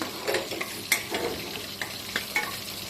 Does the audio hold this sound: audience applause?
no